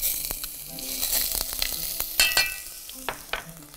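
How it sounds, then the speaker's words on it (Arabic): Onion sizzling in hot oil as a sauce for mushroom-sauced meat is started, a dense crackling hiss broken by sharp clatters of a utensil against the pan, close and fairly loud with no voices. "هحط الزيت وهحط بصل"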